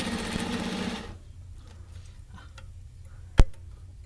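A Hakari sewing machine stitches in a steady, fast mechanical run for about a second, then stops, leaving a quiet room before a single sharp click.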